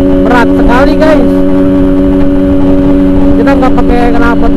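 A Yamaha RX-King motorcycle revs hard at full throttle, its loud exhaust a constant close roar with steady droning tones. Speech-like bursts cut in at the start and near the end.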